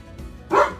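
A dog lets out a single short, close bark over a low background rumble as a hurricane approaches.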